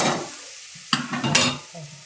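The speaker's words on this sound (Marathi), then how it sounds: "हे चांगलं परतलं होऊन का मसाला पण असं परतून घ्यायचं." Masala being sautéed and stirred in a pan while making vada pav, with scraping stirs and a soft sizzle in a few close bursts and no talking.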